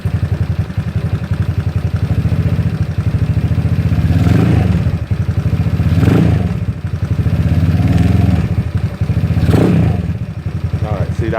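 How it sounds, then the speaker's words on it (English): ZNEN ZN150T-9 150cc scooter engine, the same as the SSR Interceptor 150, idling up close and revving in three rising and falling swells as the throttle cable is pulled by hand, with a steady mechanical clatter underneath. "I'm gonna raise the RPM by pulling the throttle cable here."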